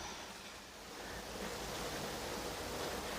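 Running water rinses ants off freshly picked garden okra, a steady broadband splashing wash that holds close and fairly loud throughout with no talk.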